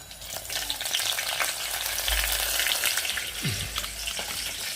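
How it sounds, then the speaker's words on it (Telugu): Dried fish frying in a pan with onion and green chili, a loud continuous crackling sizzle with stirring scrapes and no voices. "ఇవి వేసుకున్న తర్వాత ఉల్లిపాయ పచ్చిమిర్చి కూడా వేసుకొని ఫ్రై చేసేసుకోవాలి"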